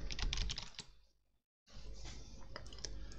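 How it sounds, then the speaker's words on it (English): Keys clack on a computer keyboard as a password is typed during a Linux Mint setup, a quick run of close taps, a brief silent gap, then another burst of typing. "I'll type in a password"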